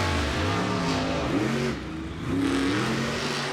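Monster trucks roar off the line at the start of a racing final in a stadium, loud engines revving and climbing in pitch together, dipping briefly then surging again.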